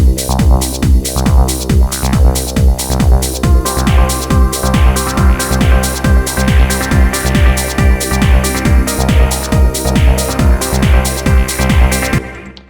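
Full trance bass line with sub and layered synths playing together, a fast, driving pulse of repeated notes, loud and dense throughout before cutting off at the end.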